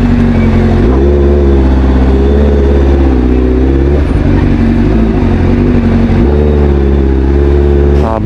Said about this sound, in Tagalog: Iinit na ng ating motor.